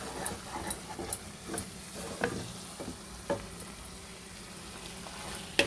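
Spinach is stirred with onion chili powder in a pan over a low, steady sizzle, with a handful of spaced spoon taps and scrapes against the pan, quiet and close.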